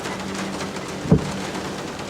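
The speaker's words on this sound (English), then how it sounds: "Squawky loves the sound of the rain on the car." Rain falling on a car in a driving video game, a steady soft patter and hiss throughout with a brief low thump near the middle.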